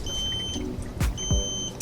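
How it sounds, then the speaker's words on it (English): An ICecap auto top-off (ATO) controller for an aquarium beeps on power-up, a few short electronic tones with a steady high whine and low hum behind them. "It beeps 3 times,"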